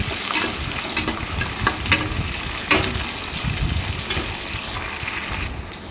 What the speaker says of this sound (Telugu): ఇప్పుడు ఫ్రై అయినాయి కదా ఉల్లిపాయ అన్నది కొద్దిగా